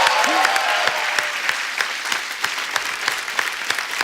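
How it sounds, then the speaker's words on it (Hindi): Studio audience applause on a Hindi television comedy talk show, a dense, steady wash of clapping from a large crowd, continuous and moderately loud throughout. "तालियां।"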